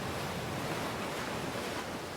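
Sea waves wash over a pebble ridge on an island shore, making a steady, dense rush of surf with no breaks and no voices.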